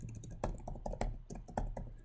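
Keys clatter on a computer keyboard in short bursts of quick, close clicks, a few taps at a time with brief pauses between, quiet and with no talking.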